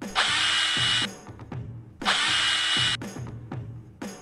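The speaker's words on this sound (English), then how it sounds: "I'll drill a couple holes to embed some thin armature wire." A power drill bores holes for thin armature wire in two long whirring runs, each ending abruptly, with short clicks and handling knocks in between; close and fairly loud, with no talk.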